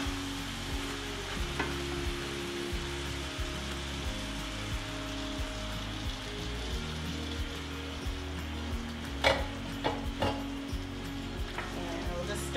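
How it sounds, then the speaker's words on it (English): Black beans with sauce stirred in a pan, a steady soft sizzle and wet scraping running throughout, with a few sharper clacks of the spoon against the pan near the end. "Stir that around, get it mixed in well, and then I'll let this go for a couple of minutes just to heat the beans through"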